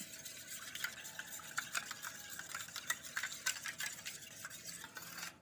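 An aloe vera and neem paste mixed with turmeric for homemade Ayurvedic soap, stirred steadily in a bowl, giving a faint, continuous wet scraping and clicking with small repeated strokes and no talking.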